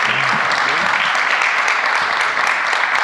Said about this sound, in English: let's have a nice round of applause for Al and Heidi